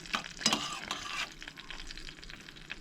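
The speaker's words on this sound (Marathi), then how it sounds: "अर्दी वाटीने हांगसर उदक ॲड करूंक जाय आणि परत असले तशें सगळें मिक्स करून घेवंक जाय" Dhokla batter being stirred in a bowl after water is added, soft close scraping and swishing strokes, strongest early and then fading to quiet rustling.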